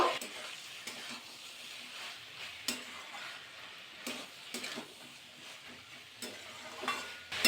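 A spoon repeatedly scrapes and stirs pui bitli chorchori, a Malabar spinach and seed dish, in a pan after sugar goes in, sharp rhythmic clanks over a soft background sizzle.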